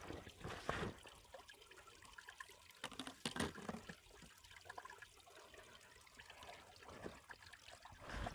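Waterfall in the Peak District pouring down a rocky scramble route, a steady broadband rush of falling water with a few louder splashing surges, close and continuous with no talk.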